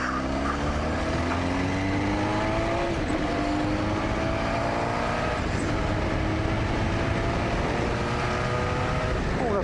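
Motorbike engine droning loudly and continuously while riding, its pitch rising and falling as the rider speeds up and eases off, with steady wind rush over the whole stretch.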